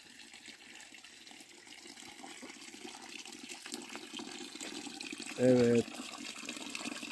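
Mountain spring water trickling and flowing steadily in a highland pasture, soft and constant, with a voice talking over it and a brief louder splash near the end.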